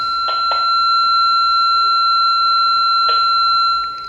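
A Redell DL-5108 portable radio with an external antenna plays a steady, loud tone with a constant high whine, interrupted by a few short bursts of static.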